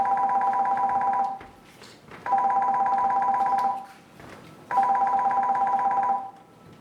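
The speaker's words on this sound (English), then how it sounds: "and then a phone call." A telephone rings three times, each ring a long electronic trill followed by a short pause, clear and fairly close with no talk over it.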